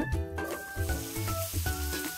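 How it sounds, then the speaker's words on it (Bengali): Sliced potatoes fry in oil left over from frying katla fish, giving a continuous hiss that sits beneath prominent background music throughout. "এই মাছ ভাজার তেলে আমি রান্না করব। আলুগুলোকে আমি ভেজে নেব।"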